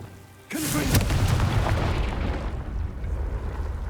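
The Confringo spell explodes in the video game Hogwarts Legacy with a sudden, loud, deep boom. A rumbling roar follows and fades slowly.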